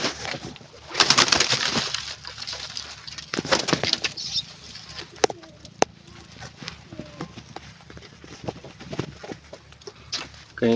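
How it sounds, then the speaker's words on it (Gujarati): Pigeons kept in a loft coo softly and flap their wings in short bursts, with scattered rustles and knocks nearby and a voice speaking briefly in the background. "કંઈક આ રીતના આપણું કબૂતર છે"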